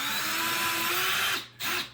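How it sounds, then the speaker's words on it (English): Close and loud, a power drill bores into a wall with a steady high whir that cuts out briefly near the end, then starts again. "I'm now going to put that with the drill gun into the wall."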